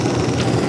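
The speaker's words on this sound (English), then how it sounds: "Fire up the spindles." The spindles of a 95-year-old Kwik-Way grinder spin up, making a steady, loud, close rumbling machine drone for a moment with no talk.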